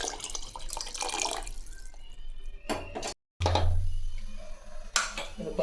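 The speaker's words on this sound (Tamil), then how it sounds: "கொஞ்சமாக தண்ணி சேர்த்துக்கலாம்." Water splashes and pours into a cooking pot of sambar in a couple of bursts, with a brief drop to silence between, close and fairly clear.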